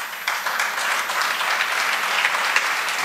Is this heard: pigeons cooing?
no